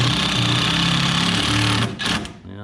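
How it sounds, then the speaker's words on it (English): A small power drill sinks screws into a Coosa board boat deck, a loud continuous buzzing grind that stops abruptly near the two-second mark, followed by a few short clicks and softer rattles. "That's Mark's little drill there"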